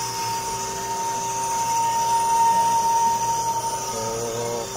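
A brake disc resurfacing lathe skims a rotor in an auto repair shop, giving a steady mechanical whir and airy hiss with a thin sustained tone, even and moderately close, and no voices over it.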